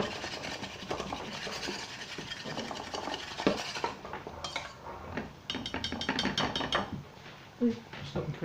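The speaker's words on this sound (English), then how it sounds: "Get in there with this wee baby whisk." A small whisk scraping and stirring in a pan of cooking sausage-pasty filling, close and busy with metallic clatter and rubbing, quieter in stretches, with a faint voice underneath.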